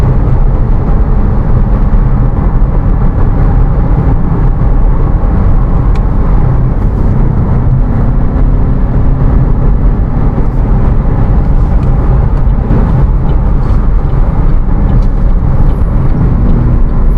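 A 2025 Citroen C3 Aircross on a test drive roars loudly and steadily as it accelerates, with a dense blend of engine drone and road noise filling the cabin for the whole stretch, without talk.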